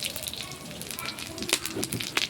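Whole garam masala, cumin, bay leaf and dried red chilies with a little sugar sizzle in hot oil at the start of a potol chingri (pointed gourd and prawn) dish, a steady bright crackle with a few sharper pops.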